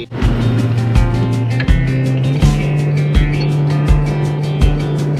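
A car cruising on highway NH-27 near Kaziranga, a loud steady engine and road drone from inside the cabin with regular rhythmic thumps from road joints roughly every half second to second, as it overtakes.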